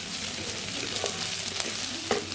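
Ginger garlic paste sizzles steadily in oil in a frying pan while a Goru Chikkudukaya curry is cooked, a close, constant broadband fry with a few sharp crackles and faint stirring scrapes.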